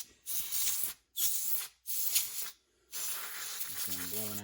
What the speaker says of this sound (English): usually we'll use a can of compressed air